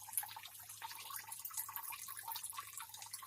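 Spring water from the mountain runs at a temple in Japan, a steady close trickle and splash of flowing water with no break and no voices.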